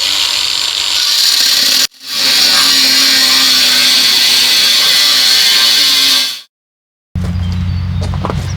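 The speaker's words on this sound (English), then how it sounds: "I'm just gonna use a standard angle grinder with a cutoff disc on it" A standard angle grinder with a cutoff disc cuts through drip irrigation line, a loud close high-pitched whine that dips briefly, resumes for several seconds, then stops before a lower mechanical hum follows.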